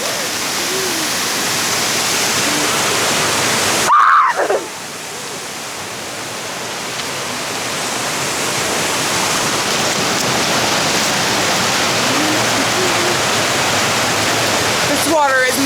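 A freezing waterfall roars steadily in minus 30 degree cold, a dense, constant rush of falling water that fills the whole scene, with a brief burst of a voice near the start.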